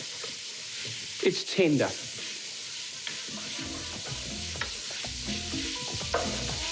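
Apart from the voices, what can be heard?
garlic cloves sautéing in a pan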